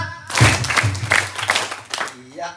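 Children at a Quran learning class (TPQ) clap together in a counting game, a run of group claps mixed with voices.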